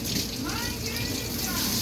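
Running water from a hotel shower or faucet, a steady rushing spray like rainfall with people talking over it.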